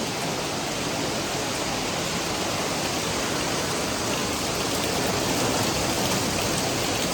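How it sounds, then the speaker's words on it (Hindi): Heavy rain pours down steadily, a dense unbroken hiss that fills the whole stretch with no letup and no voices. "बहुत ज़ोरों की बारिश हो रही है"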